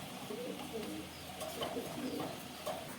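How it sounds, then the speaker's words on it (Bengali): Home-bred, leg-ringed domestic pigeons coo softly in a loft, a quiet scattered burble of overlapping coos over a constant background hiss, with faint voices nearby. "এগুলো আমার সব ঘরের কবুতর ভাই"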